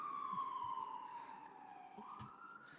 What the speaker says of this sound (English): Wow, it's an ambulance.